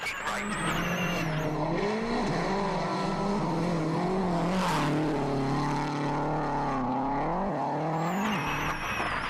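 Chris Atkinson's Subaru rally car howls flat out through a gravel WRC stage in Argentina, its engine note rising and dropping through gear changes, loud and close for the whole stretch with tires scrabbling.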